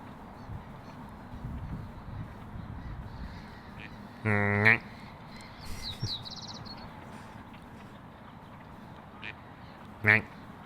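A female duck calling outdoors, two short harsh quacks spaced several seconds apart, the first a buzzy burst and the second brief, over a low outdoor background with faint distant sounds between.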